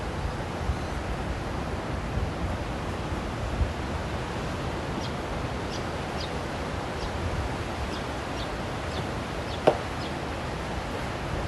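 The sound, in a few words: ocean swell waves breaking at the Gold Coast spit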